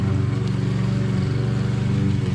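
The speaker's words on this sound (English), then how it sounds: "He is mowing the lawn because you can see everything is wild." A lawn mower engine runs steadily close by while cutting overgrown grass, a constant low droning hum with no break.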